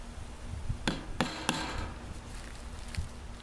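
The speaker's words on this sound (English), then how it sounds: "Drive that in, just as if it was a nail." Hammer blows drive a bent wire fastener into a wooden truss like a nail, three sharp strikes close together, then a fainter fourth hit after a pause, fairly quiet and close.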